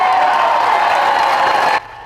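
Hundreds of people gathered on the shore of Lake Coeur d'Alene at a vigil for Charlie Kirk cheer loudly, a steady, dense roar of voices that cuts off abruptly, with no one speaking over it.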